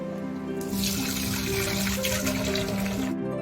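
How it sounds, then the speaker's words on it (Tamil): Moong dal lentils being washed in water, a continuous splashing and running-water wash heard close up for a few seconds, with no talking. "ஆட் பண்ணிவிட்டு பருப்பு நல்லா வாஷ் பண்ணிக்கலாம்."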